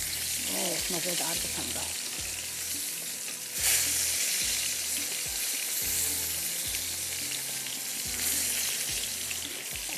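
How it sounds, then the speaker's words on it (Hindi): Chicken pieces for a crispy fried burger sizzle steadily in hot oil, a dense, even frying hiss with a brief louder surge partway through, under a voice talking at moments. "ये भी फ्राई हो रहा है"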